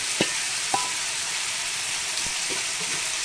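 Fried cauliflower is stirred into a pan of spiced potatoes, with a steady loud sizzle and a few soft scraping knocks from the spoon scattered through it.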